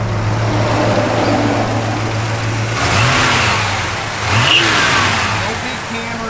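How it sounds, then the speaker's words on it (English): A 1967 Chevrolet Chevelle SS with an essentially stock V8 and no big cam runs with a loud, steady rumble, then cranks and catches, its tone shifting and revving briefly before settling down, with faint voices nearby. "You can hear the thing fires right up."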